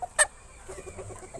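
Hen in a chicken breeder's yard gives a short sharp cluck, then a run of soft, low clucks and murmurs close by.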